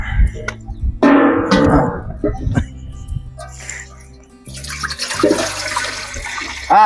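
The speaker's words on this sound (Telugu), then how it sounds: "ఇప్పుడు మన బాస్మతి రైస్ ఉడకరికి సరిపడా నీళ్లు పోసుకొని పెట్టుకుందాం" Water poured into a cooking pot for basmati rice in a home kitchen, splashing in short loud gushes between pauses, with people talking nearby.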